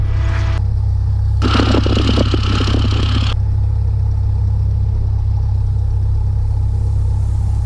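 A small single-engine Skyhawk taxis toward runway 32, its engine a loud, constant low drone throughout with a brief burst of higher-pitched noise early on and no talking.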